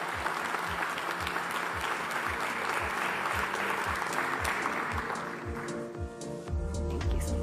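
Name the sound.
audience applause at a conference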